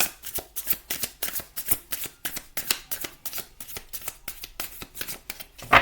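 Tarot cards shuffled and drawn by hand, a close, steady run of quick riffling and slapping bursts with no talking.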